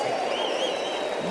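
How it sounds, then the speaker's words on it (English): Dense audience applause fills a motivational speaking event, steady and continuous throughout with a few cheers rising above the clapping. "Give yourselves a round of applause."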